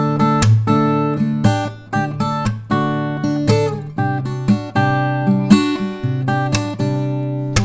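Fingerpicked acoustic guitar plays a steady melody, punctuated by sharp percussive snare-like slaps on the strings at regular beats.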